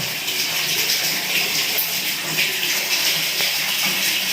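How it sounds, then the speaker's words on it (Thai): Tap water runs steadily into a basin in a new bathroom, a loud, close, continuous splashing rush that fills the whole stretch without letting up. "มีน้ำเต็มแล้วนะครับปิดน้ำเลย"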